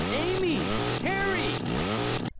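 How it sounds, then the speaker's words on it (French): A chainsaw in the arcade-style zombie shooter The Typing of the Dead, revving in rising and falling whines several times in a row with a low engine drone beneath, fairly close and loud. "Ok, massacre à la tronçonneuse."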